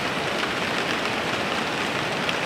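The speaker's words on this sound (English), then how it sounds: "it sounds like the rain has calmed down a bit" Steady rain drums on a heated tent in a cold, rainy forest, a dense continuous patter that holds even and close throughout with no voices.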